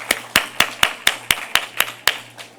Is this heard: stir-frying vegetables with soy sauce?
no